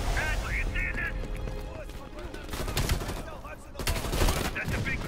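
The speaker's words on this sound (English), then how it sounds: "Heavy MG on the ridge." Heavy machine gun fire in Call of Duty Cold War, sustained bursts of gunfire mixed with other battle noise, loud and continuous, with voices talking over it.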